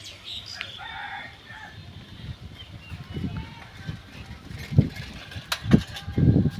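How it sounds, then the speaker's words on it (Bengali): Village chickens and other birds call outdoors, with a rooster crowing and scattered clucks and chirps over low rumbling background noise. "শুধু পাখিদের কিচিরমিচির"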